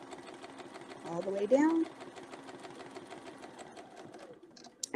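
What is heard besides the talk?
sewing machine stitching a shape along a ruler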